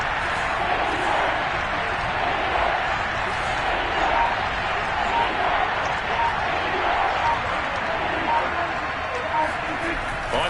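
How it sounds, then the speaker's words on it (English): A steady roar of the Seahawks home stadium crowd in Madden 22, loud and continuous throughout, with a commentator talking over it. "This red zone is where the Seahawk crowd really makes it tough for an offense to communicate."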